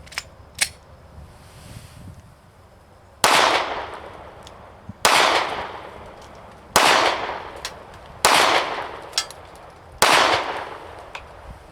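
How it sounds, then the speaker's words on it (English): Five sharp, loud pistol shots from a Glock 43x fitted with a Taran Tactical spring kit ring out at an indoor shooting range from 5 yards, evenly spaced about two seconds apart, each with a short decaying echo. "We're going to do the same thing, 10 shots on each one, and see what happens."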